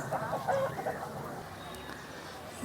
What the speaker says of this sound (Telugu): మంచి హెల్దీగా యాక్టివ్గా ఉన్నటువంటి కోడిపుంజు